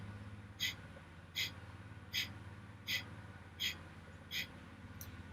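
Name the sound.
active exhalation breathing exercise, fire breath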